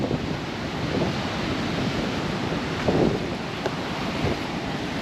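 Waves wash onto Corallia Beach in a continuous surf roar mixed with wind buffeting the microphone, with a slightly louder surge midway and no voices.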